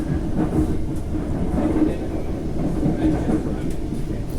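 An electric commuter train on Wellington's Johnsonville Line rolls along with a steady low rumble and faint rhythmic clatter, heard from inside at a constant moderate level.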